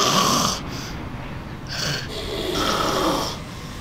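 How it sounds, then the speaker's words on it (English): A man asleep at an airport snores loudly and close by, several rasping breaths in a slow, uneven rhythm with no talking. "this guy over here that's sleeping and snoring"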